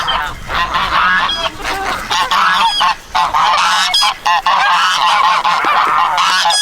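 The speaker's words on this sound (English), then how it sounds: "there's really no sense of me even talking because the geese are so loud" Loud, constant honking from a flock of geese near an old rock cabin, overlapping calls with brief gaps, close by and dominating the scene.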